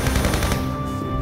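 Rapid automatic gunfire in Tomb Raider Remastered, a fast, steady burst of close, loud shots that stops after about half a second, leaving a ringing tail.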